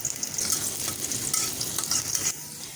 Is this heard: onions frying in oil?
yes